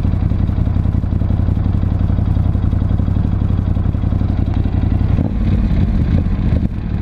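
A loud Ducati Scrambler 1100 Special motorcycle exhaust rumbles continuously at close range, with a short burst of clatter near the end.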